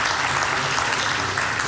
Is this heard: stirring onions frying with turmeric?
no